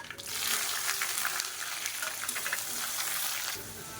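Finely chopped small shallots and a large onion sautéing with spices in hot oil, a steady bright sizzle and crackle running continuously at close range.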